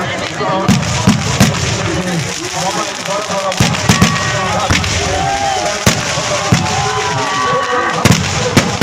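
Night fireworks and firecrackers during a village competition in Odisha: a dense, fast series of sharp cracks and booms, some near and some farther off, over continuous crowd chatter and voices.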